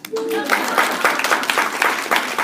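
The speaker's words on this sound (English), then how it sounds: "One more time. Clap for Rachel" Audience at an October 2013 team meeting bursts into clapping, a dense, fairly close round of applause lasting a couple of seconds with no talk over it.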